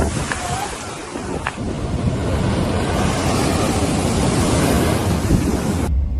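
Rough sea waves roar in a loud, continuous wash with heavy wind buffeting the microphone, cutting off abruptly near the end.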